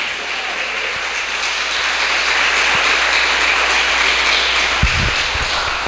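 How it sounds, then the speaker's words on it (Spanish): A church congregation claps in sustained, even applause during a sermon, a dense wash of hand claps with a low hum and a few soft knocks underneath. "Dele un fuerte aplauso al Señor Jesucristo"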